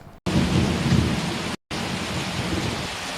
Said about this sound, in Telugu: జిల్లాలో పలుచోట్ల వర్షం కురవడంతో వాతావరణం చల్లబడింది.